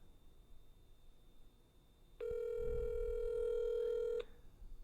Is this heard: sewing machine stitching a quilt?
no